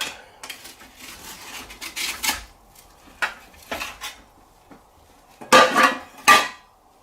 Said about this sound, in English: I'm going to take that out and start slicing it up